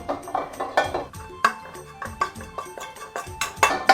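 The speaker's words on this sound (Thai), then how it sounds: "กะปิ เนี่ยครับ เอามาคั่วนะครับใช้ไฟอ่อนๆนะครับ" Shrimp paste is dry-roasted in a pan over low heat, with irregular clinks, taps and scrapes of a utensil against the pan coming in quick uneven bursts, close and fairly loud.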